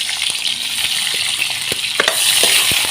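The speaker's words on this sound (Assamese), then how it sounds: "বিলাহীখিনি অলপ ভাজি লৈছোঁ" Chopped tomatoes frying in a pan over browned onions, giving a steady close sizzle with occasional scraping stir clicks throughout, no voices.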